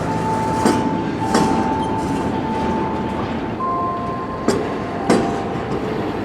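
Railroad locomotives roll steadily over a track wye in Atlanta, a continuous close rumble of wheels with a few sharp clanks over rail joints and a faint thin squeal partway through.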